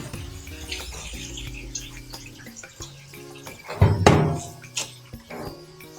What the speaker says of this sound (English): I'm going to pour the water again away and show you